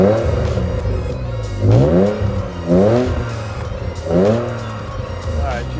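A BMW E36 wagon with a two-litre engine and upswept exhaust, still cold, is revved three times in sharp rising bursts that fall back to idle, close and loud, with people talking.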